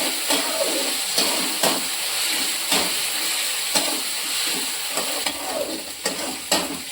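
Food fries in a hot pan with a steady, close sizzling hiss, punctuated by regular scraping stirs every half second or so.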